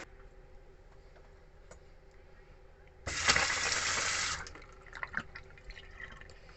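Water gushes from a caravan bathroom mixer tap in a Jayco StarCraft with a new cartridge, a steady rush lasting about a second and a half before cutting off, with faint drips and small clicks either side.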